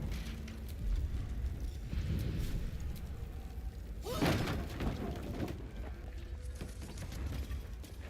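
Explosion in Baldur's Gate 3: a broad, rumbling burst around the middle of the clip over steady game ambience, moderately loud and close, with no speech.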